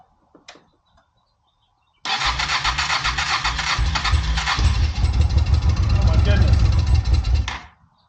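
A Honda PC800 motorcycle, primed with starter fluid after its carburetors were cleaned, cranks briefly and then catches into a loud, rough, steady running roar that lasts about five seconds before dying away.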